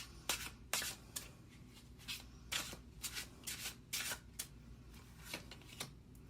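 Tarot cards are drawn from a deck with repeated soft papery swishes and slides, about a dozen close strokes in an uneven rhythm, alone without speech.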